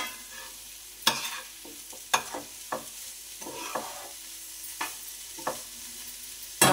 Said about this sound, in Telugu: కొంచెం హై ఫ్లేమ్లో ఫ్రై చేసుకోవాలి.